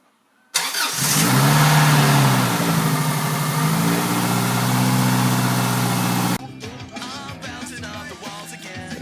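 A 2002 Subaru Legacy GT Limited engine, freshly rebuilt, cranks and catches, then revs loudly and steadily for several seconds before dropping back to a quieter idle.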